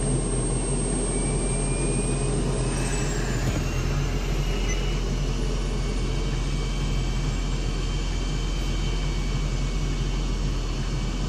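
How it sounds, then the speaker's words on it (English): A loud, steady jet engine roar as the engine spools up for start, a rising whine layered over it, continuous and close, with no voices. "used to get the jet engine up to speed so we can apply fuel in the ignition and start the motor"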